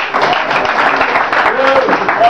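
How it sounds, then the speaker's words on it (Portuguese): Church congregation clapping together as they take their seats, a steady dense patter with voices and a sung or called tone rising near the end. "Tome seu assento aplaudindo e glorificando a Jesus Cristo."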